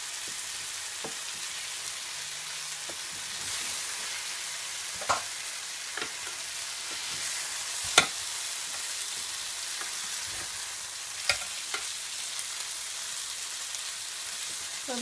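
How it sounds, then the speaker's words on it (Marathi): Pomfret fish fries on a tawa for tandoori pomfret, a steady close sizzle running throughout, punctuated by sparse sharp clicks and scrapes as the fish is turned and stirred in the pan. "गॅस कमी करून मासा पूर्ण फ्राय करून घ्यायचा आपल्या"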